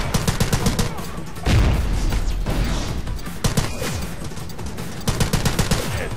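Gunfire in the shooter game The Club, at the moment a headshot is scored: rapid bursts of automatic shots crackle in quick volleys, with a heavy boom partway through and bursts of fire resuming near the end, all loud and close.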